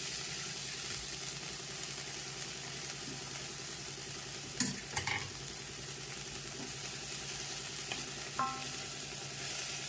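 Finely chopped fenugreek leaves frying with browned onions in a pan for an omelette, a faint, steady low sizzle with a couple of brief spatula scrapes and knocks.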